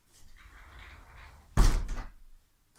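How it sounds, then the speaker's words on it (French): An indoor door is pushed shut with a single solid thud, preceded by a faint rustle and followed by a short fading rattle, heard fairly close in a quiet room. "Je vais fermer la porte"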